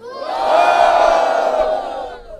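A crowd at a Batalha da Aldeia rap battle in Barueri, São Paulo cheers and shouts together in one loud, sustained roar that swells and then fades slightly.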